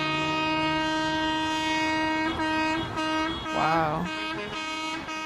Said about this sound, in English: Trucks honking.